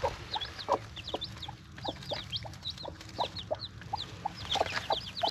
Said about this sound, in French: 6 petits poussins, il y a 3 noirs, 3 blancs, ils sont magnifiques, la poule elle en prend super soin.